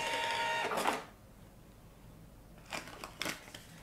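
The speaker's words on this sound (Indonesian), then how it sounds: "Kita coba print bill." An Imin D3 Android point-of-sale terminal's built-in receipt printer prints a bill: a short whirring burst of thermal printing and paper feed, a pause, then a few more quick mechanical buzzes, close and fairly quiet.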